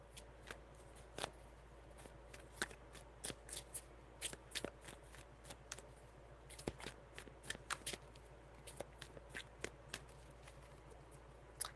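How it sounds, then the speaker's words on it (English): A deck of cards is shuffled indoors in a quiet room, giving crisp, rapid riffles and snapping bursts that repeat in a quick, irregular rhythm, close up and faint over a low steady hum. "Four shuffles"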